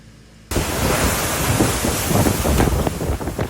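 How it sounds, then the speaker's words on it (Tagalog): Loud, steady roar of typhoon wind battering the microphone in Kasiguran, Aurora, Philippines, with a dense rushing wash of heavy rain, starting abruptly after a brief quiet moment. "Buong araw na malakas ang hangin at ulan sa Kasiguran Aurora dahil sa bagyong Nika"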